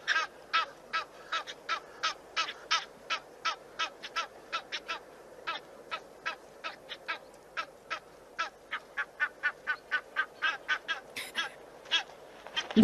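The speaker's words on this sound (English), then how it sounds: "can you see that it's gotten hold of the neck of the other goose? This is quite a ferocious fight." Wild geese fighting, one gripping the other's neck, give off a long run of sharp honks and quacks, rhythmic and repeated, speeding up near the end with no talk.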